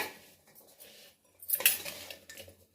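Mango pickle being mixed with salt, short clinks and scrapes of a utensil against a dish, quiet with a louder burst midway.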